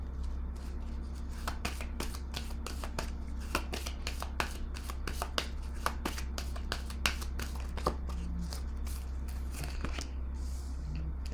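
Tarot cards are shuffled by hand in a long, steady run of close riffling and rapid slaps, loud against a low constant hum, with no one talking.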